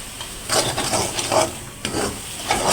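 Stirring fried egg into saak pithali, a leafy greens dish thickened with rice-flour batter, as it fries in a pan: a few scraping stirs recur at a steady rhythm over a soft sizzle, close and fairly loud, with no talk.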